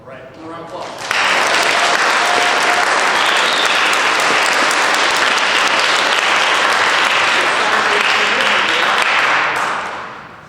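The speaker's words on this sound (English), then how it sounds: "All right, one round of applause." A round of applause at a high school military enlistment signing ceremony, swelling in after a brief moment of quieter room sound and then holding as loud, continuous clapping from a crowd for about nine seconds before tapering off.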